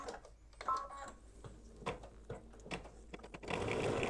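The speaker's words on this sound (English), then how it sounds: "I'm going to return the hoop to the machine and stitch the brim of his hat" Embroidery machine stitching a hat brim on an in-the-hoop mug rug, rapid needle clatter in short bursts with clicks and pauses, ending in a louder sustained run of stitching.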